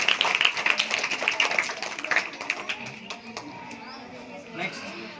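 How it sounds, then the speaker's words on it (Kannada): A school audience applauds after a correct answer at a National Science Day quiz: a dense patter of clapping that is loudest at first, then thins and fades, with some voices mixed in. "ಚಪ್ಪಾಳೆ."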